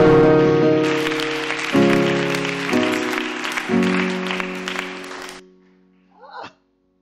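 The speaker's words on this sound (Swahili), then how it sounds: "Patia Yesu sadaka ya makofi." A church congregation offers applause to Jesus, the clapping rising over sustained keyboard chords that shift a few times, then stopping abruptly, followed by a short vocal sound.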